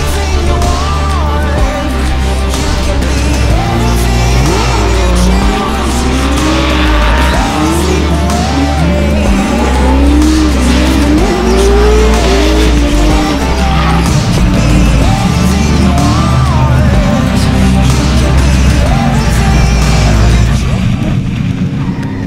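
A car drifts around a race circuit, its engine roaring loud and close for the whole stretch while the tires squeal in long, wavering slides, with a voice speaking faintly underneath.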